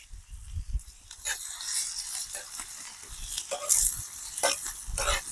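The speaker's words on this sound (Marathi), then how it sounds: "तेल तपलं मस्त कांदा टाकून घेऊ मस्त कांद्याला लाल होईपर्यंत परतून घेऊ" Chopped onion frying in hot oil in a pan on an outdoor wood-fired village stove, a soft continuous sizzle with intermittent scraping stirs, close and moderately quiet.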